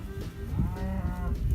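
Cows and calves being moved along a farm lane moo in overlapping calls of moderate loudness, with shuffling and other farmyard noise underneath and no voices.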